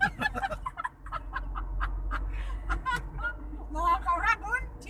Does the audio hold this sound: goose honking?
yes